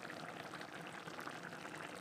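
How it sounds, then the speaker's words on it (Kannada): Mushrooms simmer in their own released water with salt in a pan, a soft, even bubbling hiss that stays faint and unbroken, with no voices. "ನೋಡಿ ಕುದೀತಾ ಇದೆ"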